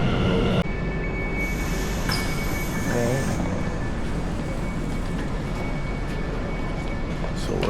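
Train in Amsterdam with a steady, loud rumble of rail noise and wheels that continues throughout, and a brief squeal partway in, with voices nearby in the background.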